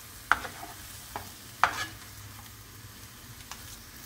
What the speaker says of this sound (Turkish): Mutlaka unla birlikte patlıcanlarımızı kavuralım.